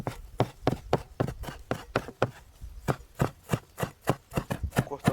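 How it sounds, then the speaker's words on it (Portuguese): A knife chops rosemary on a board in a steady, quick rhythm, about twenty crisp, close taps with short even gaps, fairly quiet and alone without talk. "Cortando o alecrim."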